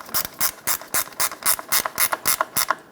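Ratchet tightening cooling fan bolts into the composite radiator of a 1992-1996 Toyota Camry 2.2L I4, a close, loud series of about eleven evenly spaced clicking strokes with no talk.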